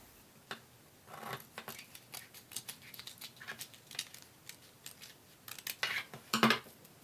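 Scissors snip through fabric while a white vest is cut out for sewing, giving a quiet, close series of irregular crisp clicks and shears that cluster more busily near the end.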